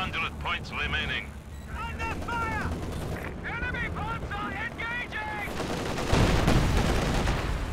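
Machine gun fire and scattered gunshots rattle through a Company of Heroes 2 battle, loud and continuous with bursts layered over a busy mix, building to a heavier blast near the end.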